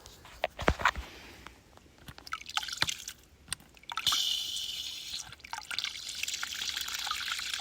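A homemade off-grid ram pump flushes out water carrying gunk and sand, producing a loud, continuous splashing and trickling with irregular bursts of spatter.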